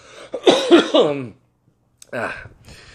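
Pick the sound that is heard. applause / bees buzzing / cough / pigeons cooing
cough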